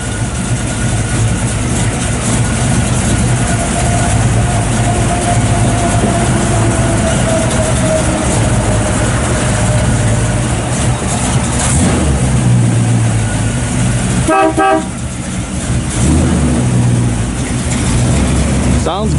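A 1955 Chevrolet 210 Bel Air V8 with an aftermarket cam running loud and close, a steady rumbling idle with a brief blip partway through while someone talks nearby.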